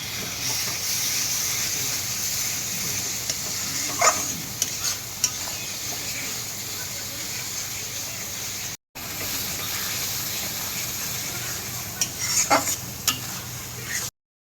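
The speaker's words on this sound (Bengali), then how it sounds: "মিট মশলাটা দিয়েও একটু ভালো করে মশলাটা কষিয়ে নেব।" Meat masala spices being sautéed with water and stirred in a pan for mutton-fat ghugni, a steady loud sizzle with scraping stir strokes running throughout, briefly cut near the middle.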